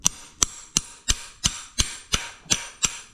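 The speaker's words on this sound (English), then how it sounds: "you take a hammer, you beat it on that side there, and it helps get these really tough bolts out" Nine evenly spaced sharp metallic hammer blows ring out alone and close, striking an impact screwdriver to break loose stubborn bolts while working on a vintage GT 550 motorcycle.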